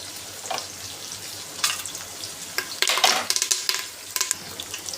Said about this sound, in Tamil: இதை நம்ம எண்ணெயில் சேர்த்துக்கலாம்.